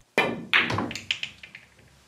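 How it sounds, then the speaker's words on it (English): Billiard cue striking the cue ball during a chalk test, a sharp tap followed by a second crisp knock and a run of fading ball clicks, close and clear. "I hit the same shot with the cue ball in slightly different orientations each time"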